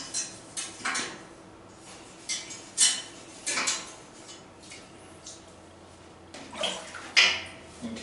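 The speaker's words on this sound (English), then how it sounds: "go ahead and attend to our valves with the valve brush" Baritone or tuba valves scrubbed with a valve brush in water, heard as scattered close splashes, metallic clinks and brushing sounds in an uneven rhythm, with no talk.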